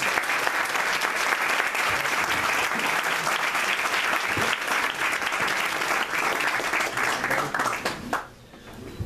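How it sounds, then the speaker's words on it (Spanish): Audience applause fills a book presentation at a café, loud and sustained clapping from a seated crowd that keeps going for several seconds before tapering off near the end. "Ese es Bernardo Carrión, para el que pido un aplauso."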